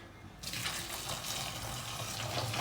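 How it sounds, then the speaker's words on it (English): After a brief quiet start, boiling water gushes steadily into a pot of ackee, a close, continuous pouring rush with no voices. "add some boiling water onto it"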